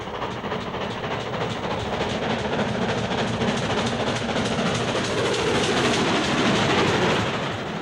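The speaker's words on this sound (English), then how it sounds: "a Castle leaves Greet Tunnel and heads north through Winchcombe, bound for Birmingham Snow Hill and Wolverhampton Low Level" A GWR Castle class steam locomotive hauls a train past near Winchcombe and Greet Tunnel in Gloucestershire, a loud sustained rumble and rattle of wagons rolling by with faint hiss, swelling slightly before easing.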